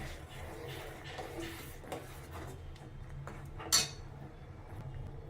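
A spoon scrapes and stirs sugar and cardamom powder in a vessel, giving soft irregular rubbing and clinking strokes with one sharper knock near the end, close up and moderately quiet.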